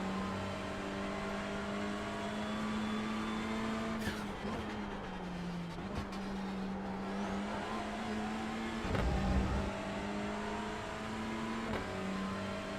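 A touring race car engine in iRacing at Sebring, from a multiclass GT4 and TCR race, holds a steady droning note, dipping and rising through gear changes, with brief bumps and tire noise midway.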